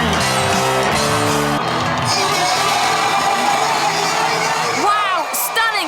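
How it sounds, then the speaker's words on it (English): Virtual crowd in a music video game roaring with cheers, whoops and applause, a loud sustained wash of excited voices and shouts, with music tones at the start and people talking over it. "the game was telling them by feeding back loads of applause and cheering"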